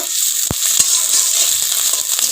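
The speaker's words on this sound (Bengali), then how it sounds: "তেলে দিয়ে দিব পেঁয়াজ কুচি চেরা লঙ্কা দিয়ে একটু লাল করে ভেজে দিব" Chopped onion and slit green chilli fry in hot oil in a wok, giving a steady, close, hissing sizzle with a few sharp clicks of stirring and no talk.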